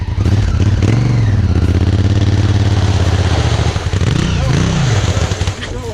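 A Honda Africa Twin motorcycle revs hard through deep sand on a group ride, its engine held at a loud, close drone with a couple of rising surges near the end.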